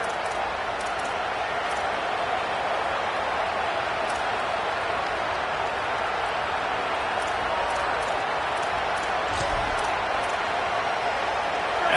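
A loud stadium crowd at a football game roars in a steady, continuous wash of noise that holds for the whole span, with faint crackles scattered through it.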